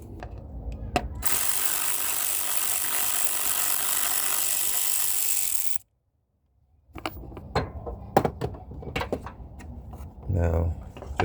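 A ratchet clicks rapidly in a long, continuous run while loosening a 10mm bolt on the radiator fan of a 2012 Cadillac CTS 3.0L, followed by a short silence and then scattered metallic clanks and handling noises.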